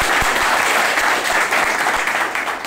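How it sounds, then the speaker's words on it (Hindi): Students in a training class clap for their teacher, a loud, close, continuous roar of many hands in a room, sustained without pause for the whole stretch. "इस बार फिरोज सर के तालियां बजा दीजिए"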